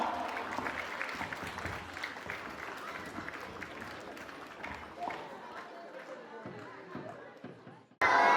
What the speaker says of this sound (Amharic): በሞቅ ባለ ጭብጨባ ተቀበሏቸው።